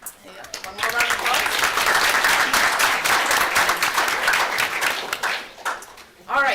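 Audience applause at a school board of education meeting, a sustained burst of clapping from a room of people that swells quickly and tapers off, with speech before and after it.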